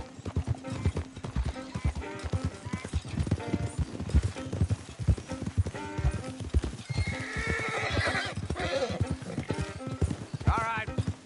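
Horse hooves clip-clop in the Red Dead Redemption 2 video game, a steady clattering of footfalls with a neigh partway through, heard under ongoing talk and game sounds.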